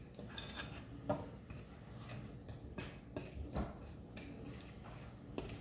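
Fork stirring saffron bun dough in a bowl, faint irregular scrapes and soft taps against the bowl, quiet and close with no voices.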